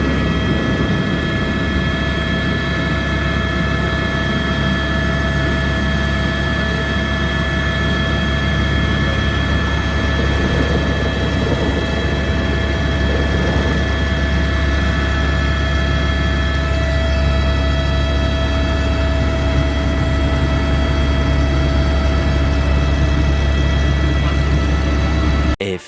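A private helicopter flies from Kedarnath, its engine and rotor making a loud, steady, unbroken drone heard from inside the cabin for the whole stretch, with no voices.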